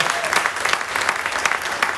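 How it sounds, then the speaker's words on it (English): An audience aboard a cruise ship breaks into a big round of applause, with dense, steady clapping close by and a voice faintly underneath. "with a big round of applause"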